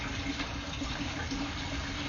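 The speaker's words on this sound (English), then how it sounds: "Somebody's running water, so we can't see it quite as well as I would like us to." Water runs through an underground drain pipe, heard from inside the pipe during a sewer camera inspection as a steady, muffled rushing wash that carries on evenly throughout with no voices.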